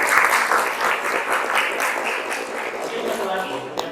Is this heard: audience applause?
yes